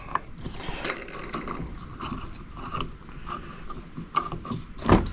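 A YakAttack LockNLoad fish finder mount is loosened and readjusted by hand, giving a series of small ratcheting clicks, plastic scrapes and mechanical creaks, ending with one sharper snap.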